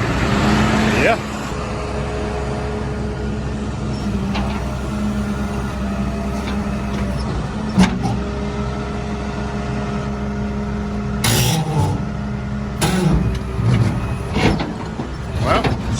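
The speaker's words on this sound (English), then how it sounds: "So I guess I'm gonna crank the truck up and get her dropped down" Truck engine idling up to lower a C5 Corvette, a steady loud engine drone at close range with a few sharp clanks and bursts of noise, while a voice speaks briefly.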